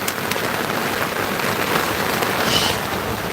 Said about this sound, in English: I didn't know it was supposed to get all rainy today.